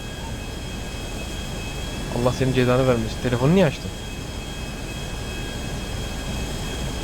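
A steady jet airplane engine drone in GTA 5, a constant roar with high whining tones throughout, while voices talk briefly in the middle.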